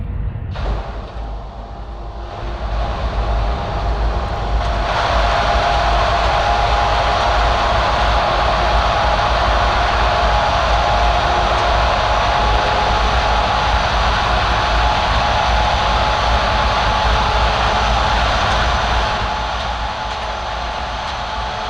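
A heavy truck engine in the video game Truckers of Europe 3 drones steadily with a broad, rumbling roar that swells after a few seconds and holds, no voices heard.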